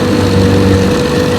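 A 1968 Johnson 9.5 HP outboard motor (MQ-14) runs on a test, giving a loud, close, steady engine drone for just over a second with no one talking.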